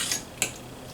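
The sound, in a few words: cutting steak with knife and fork on plate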